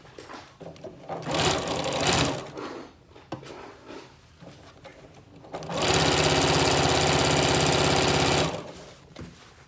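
A sewing machine stitches a Yup'ik qaspeq, a traditional pullover garment, in short bursts early on, then in one long steady run of fast even stitching near the end; faint handling noise fills the gaps.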